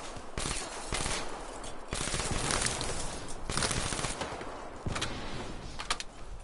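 Rapid bursts of gunfire from a Call of Duty: Black Ops 3 zombies match on PS4, loud and continuous with short gaps between volleys over roughly six seconds, no talk.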